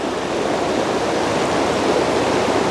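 Water flows steadily through a stream or brook in an evening outdoor setting in Maine, a continuous broadband rush that stays even and unbroken throughout with no voices.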